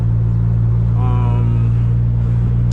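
A Nissan S15 Silvia's exhaust drones at a steady low rumble inside the cabin, with a faint rising tone midway and light rattling mixed into the constant engine hum.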